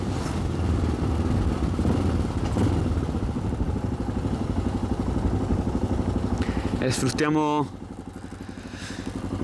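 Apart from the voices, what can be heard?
carbureted enduro motorcycle engine idling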